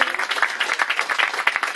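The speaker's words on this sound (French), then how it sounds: "vous pouvez déjà applaudir les uns les autres" Crowd at a telethon event applauding participants of a 24-hour walk and run, a brisk, fairly loud patter of many hands clapping with slight surges in rhythm, heard alone without speech.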